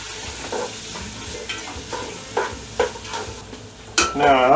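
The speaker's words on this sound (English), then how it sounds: "I need to give my meat and onions a stir" A utensil stirs meat and onions in a pan over a steady sizzle. The scraping comes in repeated strokes, and a sharper clatter lands near the end.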